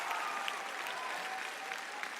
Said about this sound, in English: if you guys thought you would applaud it a lot, get ready